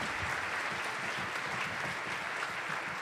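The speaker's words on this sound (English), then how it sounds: "Let's give them another round of applause." A middle school winter band concert audience applauds the student musicians, a steady, dense roll of clapping from many hands that stays even and moderately loud throughout.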